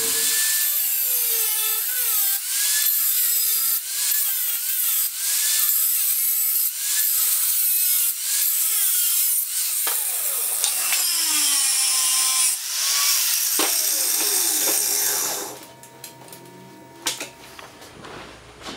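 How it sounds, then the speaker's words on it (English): Metal frame mounts for a Mini Stunter 125 motorcycle are cut and ground, with repeated rasping strokes and whining tool tones rising and falling close by, then the work drops to quieter scattered scraping near the end. "Got both the left and the right side cut out here. Edges are ground off so I can weld."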